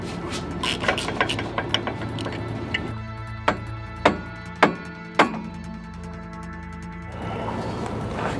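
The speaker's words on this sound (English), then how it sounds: "I can hear the universal joint, the stub inside the cap, moving up and down and hitting the back on the cap" A worn universal joint stub knocking inside its cap while a vehicle drives off road, sharp metallic clicks and knocks recurring in an uneven rhythm over a steady mechanical drone.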